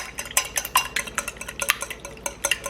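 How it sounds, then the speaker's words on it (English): One egg whisked in a bowl, a quick run of sharp, close clinks and scrapes in an uneven rhythm, fairly loud and alone with no voices. "I'm going to give it a little whisk."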